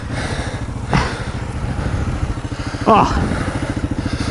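A dual-sport dirt bike's engine idles and burbles unevenly on a muddy spring trail as the rider lines up to cross a log, with two sharper revs, under a brief exclamation and some talk.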